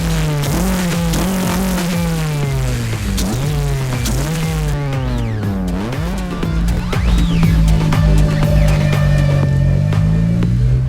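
A 200 hp Honda VTEC engine is revved repeatedly, loud and close, with sharp pitch climbs and drops, quick gear changes and a sustained high wail.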